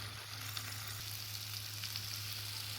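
Onion, tomato, potato and drumstick pieces sauté in a pan, giving a steady, even sizzle with faint stirring scrapes, continuous and close, with no voices.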